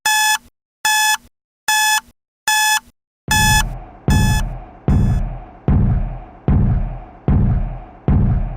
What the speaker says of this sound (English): they're always interrupted by my morning alarm